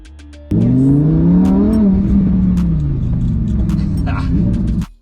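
A Lamborghini sports car engine roars up through the gears, loud and close, with a rising rev that eases off and holds a strong rumbling drone before cutting out abruptly after about five seconds.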